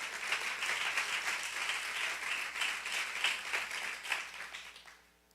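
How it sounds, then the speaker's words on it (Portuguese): A church congregation applauds during a service, steady dense clapping that fills the space for about five seconds before tapering off abruptly at the end. "Pode aplaudir ao Senhor."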